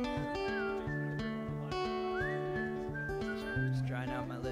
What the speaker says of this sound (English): I just whistled a solo